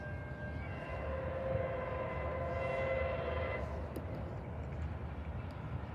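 A MARC commuter train, P873, rumbles past at moderate distance with a steady low roar and faint tonal hum, easing off slightly toward the end.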